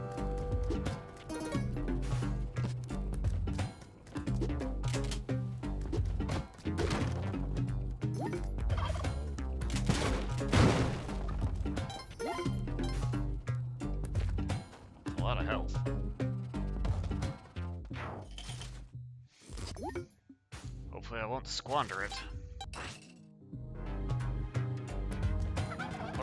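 Bird gobbling in Spelunky 2, a turkey-like gobble set among dense game music and sound effects, with a brief spoken remark partway through.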